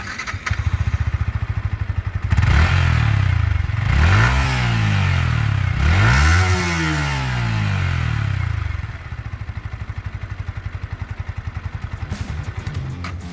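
A 2022 Yamaha R15M motorcycle exhaust rumbles at close range, idling steadily, then revs twice in quick sweeping bursts before settling back to a clattery idle.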